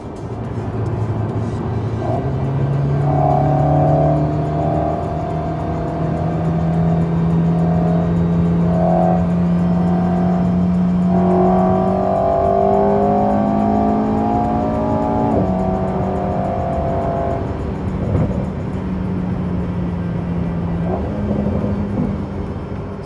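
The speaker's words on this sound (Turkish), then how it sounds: "Size ivmelenirken motorun çıkardığı sesi dinletmek istiyorum." An Alpine A110 S sports car engine accelerates hard, its note rising through the gears with brief drops at shifts, loud and close, no talking.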